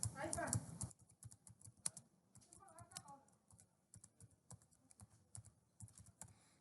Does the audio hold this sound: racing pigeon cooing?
no